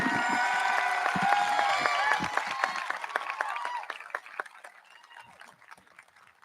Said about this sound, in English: Big round of applause for our student speakers.